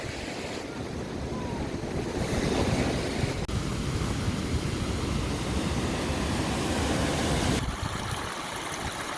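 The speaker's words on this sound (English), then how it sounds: "you can sit right here on the edge as the waves come up" At Pigstone Beach in Bali, ocean surf washes in steadily with a broad rushing roar, joined by gusts of wind buffeting the microphone, and a few abrupt shifts where the wind noise cuts in and out.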